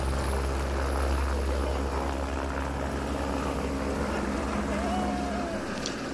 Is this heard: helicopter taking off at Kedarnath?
yes